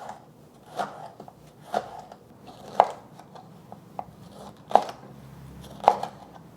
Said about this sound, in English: Using ½ of a red pepper. Just gonna thinly slice that as well.